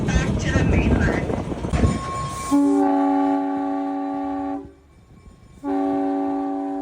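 A train on Oahu sounds its horn in two long steady blasts separated by a short gap, loud and close, after a stretch of rumbling ride noise with a person talking.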